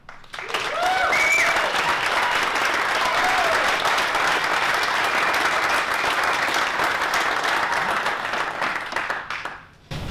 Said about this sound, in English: I think we owe her a round of applause.